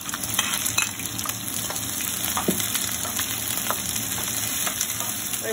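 Garlic and onion sautéing in a hot pan for sweet and sour shrimp, a steady close sizzle and crackle throughout, with scattered soft clinks and scrapes of stirring and no talk.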